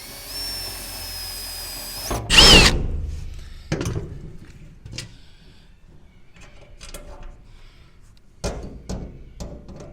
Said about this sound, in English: drilling in from the back here.